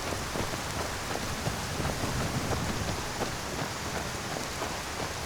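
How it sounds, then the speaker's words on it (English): Steady rainfall in the Skyrim game world, a dense, even hiss of falling drops with no letup and no voices over it. "so it's still raining through here"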